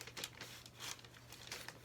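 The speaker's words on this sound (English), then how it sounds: "Try to put this back without crumpling the inner sleeve." A vinyl record's paper inner sleeve is handled and slid back in place, giving soft, close crinkling and rustling in uneven bursts over a faint hum.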